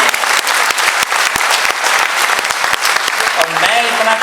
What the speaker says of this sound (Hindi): हम सब लोगों को इनके लिए जोरदार तालियां बजानी चाहिए